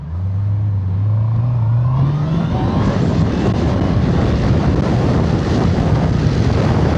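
A 2025 Honda CBR650R motorcycle with E-Clutch pulls away from a standstill. A steady idle hum rises in pitch as it moves off, then turns into loud, continuous engine and wind rumble close to the recorder.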